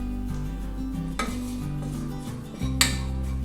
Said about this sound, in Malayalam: ഇതെല്ലാം കൂടെ പച്ചമണം മാറി വരുന്നവരെ നന്നായിട്ടൊന്ന് ഇളക്കി കൊടുക്കുക.